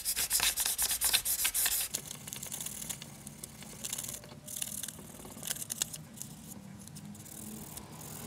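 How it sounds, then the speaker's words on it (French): Very fine 1200-grit sandpaper rubs against copper in quick, scratchy strokes, busier and louder at first, then settling into a steadier, softer rasping close by. "Je vais commencer par frotter le cuivre avec un papier de verre extrêmement fin."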